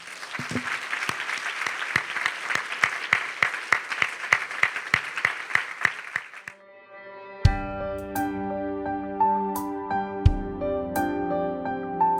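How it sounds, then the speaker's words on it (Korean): Church congregation applauding in thanks during a Korean worship service, steady rhythmic clapping that builds and then stops after about six seconds, giving way to soft sustained organ or keyboard music. "주님께 감사의 박수 올려드리겠습니다."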